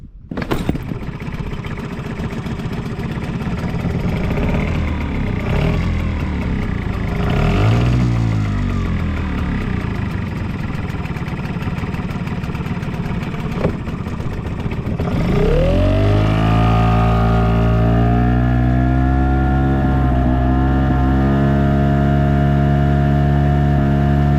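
A Hangkai 6.0 outboard motor drives a boat during a speed test, a steady loud mid-pitched drone that surges and climbs in pitch as it accelerates, then holds a strong throttled whine, close and continuous throughout.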